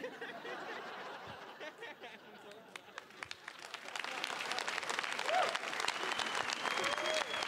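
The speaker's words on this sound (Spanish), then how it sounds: "Miren, gracias por el aplauso" A stand-up comedy audience claps and chuckles at a Comedy Central México show, the applause building and growing louder partway through, with scattered laughter and whoops mixed in.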